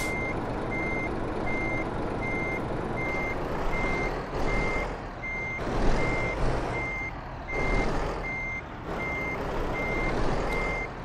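Truck reversing into a parking spot in Euro Truck Simulator 2, steady evenly spaced reversing beeps over a low engine rumble that swells and eases, no talk.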